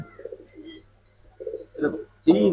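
Giribaz pigeons, including silver and other colour varieties kept for sale, coo softly in a few short throaty bursts indoors, with a voice briefly heard near the end.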